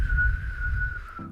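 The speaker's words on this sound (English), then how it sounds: "I'm not good at whistling." One person whistles a single steady, sustained note close by, holding the pitch for about a second before stopping.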